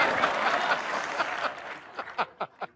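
Studio audience applause on a Hindi comedy talk show set, a broad wash of clapping that thins out, followed by several short separate bursts.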